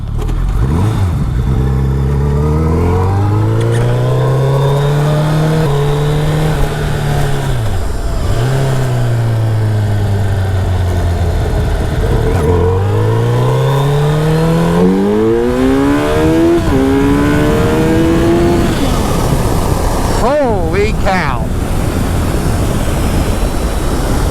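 A Gen 1 Suzuki Hayabusa motorcycle, its engine miss now fixed, revs loud and close, its engine note climbing and dropping in repeated sweeps, with no one talking.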